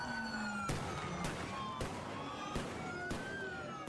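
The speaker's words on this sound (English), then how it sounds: "federal agents hurling flashbangs into the air, trying to scatter protesters during an ICE raid" Flashbangs hurled into the air by federal agents during an ICE raid on protesters in downtown LA: five sharp, loud bangs at roughly even intervals, each a broadband crack, over a continuous roar of crowd and siren noise.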